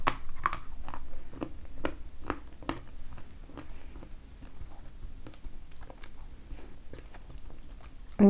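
Crisp bites and crunches of a duchess pear treat sound close to the microphone, a rhythmic series of sharp snaps at first that gradually soften into quieter chewing, with no talking.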